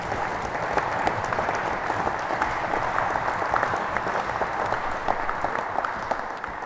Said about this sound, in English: big round of applause to you there